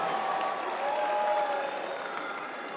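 Crowd at the World Log Lift Challenge 2019 clapping for Hafthor Bjornsson before his log lift, a steady wash of applause from a large audience in an arena, with some faint whistles or cheers mixed in.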